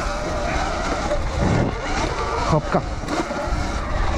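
Surron electric dirt bike riding and skidding on a slippery leaf-covered track, a steady whirring rush with crunchy scrapes and tire noise throughout, close and loud, with a brief spoken word.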